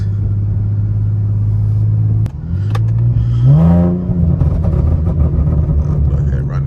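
Rear-wheel-drive Infiniti G37 engine with a leaking exhaust, a loud low drone that drops, then revs up in a rising sweep as it accelerates, heard from inside the car.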